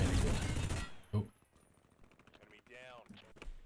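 Loud burst of rapid gunfire from the video game Hired Ops opens the scene, followed by a single sharper shot and quieter scattered game sounds, with a voice briefly heard.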